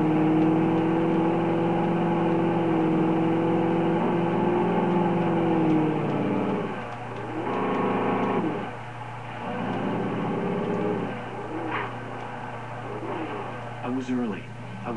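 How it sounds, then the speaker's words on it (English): A car engine hums and revs steadily in the Alan Wake video game while driving, a continuous mid-pitched drone that later dips and surges under game sounds. "just grab the car and start driving"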